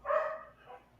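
A dog barks once nearby, a single sharp yelp followed by a softer trailing whine, heard on its own without speech.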